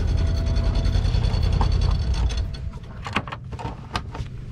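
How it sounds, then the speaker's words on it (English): An outboard motor on an O'Day 28 sailboat idles loudly at anchor, then is shut off, its steady low rumble dropping away around three seconds into a few scattered mechanical clicks and knocks. "I'm gonna shut that motor off."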